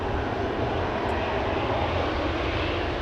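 A Boeing 777-300 departing Amsterdam Schiphol Airport gives a loud, steady, broadband engine roar that holds without a break, with no talk.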